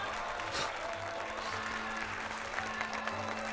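Crowd applause in the Korean TV drama The Glory, a steady wash of many people clapping at moderate volume over a faint low hum, continuing for several seconds.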